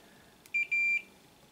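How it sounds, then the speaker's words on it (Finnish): A multimeter set to continuity mode gives two short, clear electronic beeps in quick succession, the second slightly longer, against a quiet background. "Sitten otetaan ylleismittari tuosta ja pannaan tuohon piipparialueelle se"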